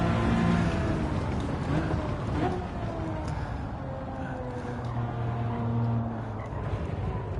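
Car engine in the racing game Gran Turismo 7, a continuous droning tone that rises and shifts pitch as the car accelerates and changes gear, heard alone with no talk.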